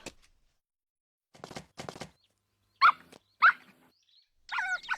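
A dog barks in a Cantonese-dubbed Doraemon cartoon: two sharp, loud barks close together, then a higher, whining yelp, with softer scuffling sounds before them and no talk.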